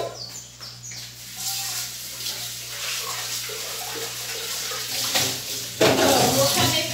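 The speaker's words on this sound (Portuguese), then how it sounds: "no canecão que eu passei no esmalte, eu vou colocar a água do arroz" Water runs steadily into an enamel-coated metal pot for cooking rice, a continuous splashing rush with a low background hum that swells near the end.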